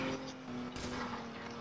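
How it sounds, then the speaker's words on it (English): Gunfire in the Roblox game ER:LC near a barn: a sharp burst of shots around the middle of the clip over a steady background hum, fairly loud and near, with no voices. "Ooh, that's major shots"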